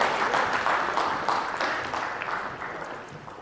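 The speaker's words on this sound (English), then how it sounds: "A big round of applause" Loud audience applause greets a speaker at a business and entrepreneurship conference, dense clapping that slowly fades in strength.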